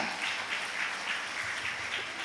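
Steady, faint applause from a group of students, an even wash of clapping that neither builds nor fades, with no talking.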